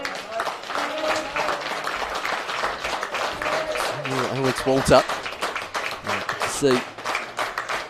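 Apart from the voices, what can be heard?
crowd applause at football match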